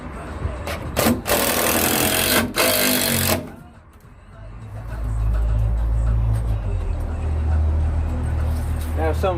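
A power drill drives self-cutting countersunk screws into a van's metal floor in sharp bursts of high whirring, followed by a lower grinding rumble as a screw spins without biting, with someone talking partway through.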